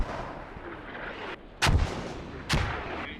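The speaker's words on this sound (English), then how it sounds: "you can see how fast Fear Academy is responding with their mortars now" Mortar fire in a military shooter game during a championship match, a low rumbling background broken by two heavy booming blasts about a second apart, loud and close.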